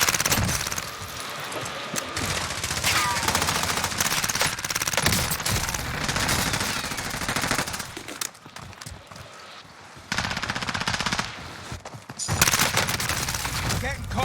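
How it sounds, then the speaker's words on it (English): Dense automatic gunfire crackles in rapid bursts almost continuously in the video game Call of Duty: Warzone, loud and close, with brief lulls and voices calling out between volleys. "I'm under fire."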